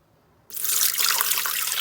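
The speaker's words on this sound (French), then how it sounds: "Je vais sur ma balance et j'y ajoute 500 g d'eau" Water pours into a Thermomix bowl set on a scale, measuring 500 g for a vanilla flan: a sudden, steady splashing stream that starts after a short silence and continues close and fairly quiet.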